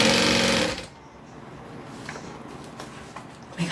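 A sewing machine runs in one loud, fast burst of stitching for under a second, then stops, leaving quiet room noise and a few soft clicks.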